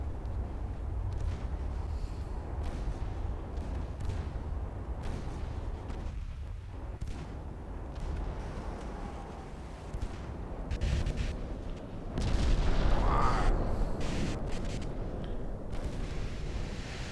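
Naval guns fire during a convoy battle in a dreadnought-era warship game, distant booms thudding over a low continuous rumble, with one louder blast standing out partway through.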